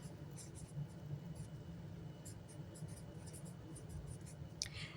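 Pen writing by hand on paper cash envelopes for budgeting sinking funds, a close series of soft scratchy strokes in short bursts over a low background hum.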